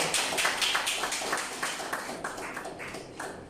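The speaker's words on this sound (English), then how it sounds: "A round of applause for our dean." Audience members at a lecture applaud their dean, a faculty head, with quick overlapping hand claps at moderate distance, steady at first and gradually thinning out, with no talking over it.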